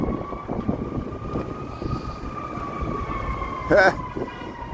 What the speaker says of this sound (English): We got some sirens coming here